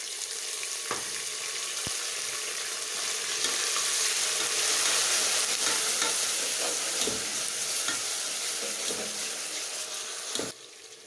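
Onions fry in a pan as whole green and black cardamom and ginger garlic paste go in, a steady loud sizzle with scraping stirs and a few clinks near the end, and no talk.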